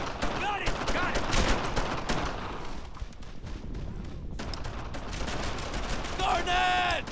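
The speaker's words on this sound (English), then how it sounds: "Put some fire on them!" Dense gunfire from World War II squad combat in the video game Brothers In Arms: Earned In Blood, a loud continuous fusillade of rifle and machine gun bursts with shouted voices mixed in throughout.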